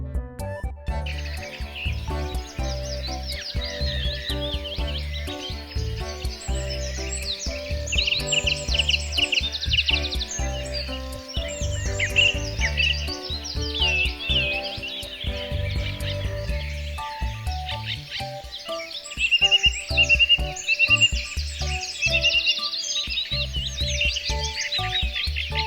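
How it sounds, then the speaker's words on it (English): Birds chirp and tweet continuously in bright, rapid trills, near and fairly loud, with no talking over them. "Bird."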